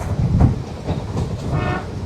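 Train horn toots on a coastal railway running beside the sea at Wellawatte, Sri Lanka, a short burst over rumbling rail noise with faint clatter, heard fairly close with no talking.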